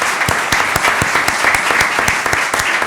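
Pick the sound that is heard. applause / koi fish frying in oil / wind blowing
applause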